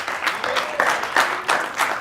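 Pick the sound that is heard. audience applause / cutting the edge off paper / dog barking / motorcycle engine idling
audience applause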